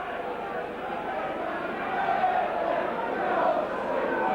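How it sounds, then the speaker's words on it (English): A rugby league crowd of about ten thousand at a stadium gives off a steady, distant murmur and roar that swells slightly midway, with a commentator's voice over the top. "An excellent crowd here assembled at Nosey Road"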